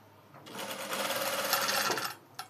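A sewing machine stitches piping onto a blouse in one short close run of fast, steady whirring that starts and stops cleanly, followed by a small click.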